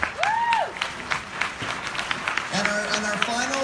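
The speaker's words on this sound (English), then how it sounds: "huge round of applause" An audience at a live brain-health talk claps in a steady, dense wash of applause lasting several seconds, with a few whoops and voices rising over the clapping.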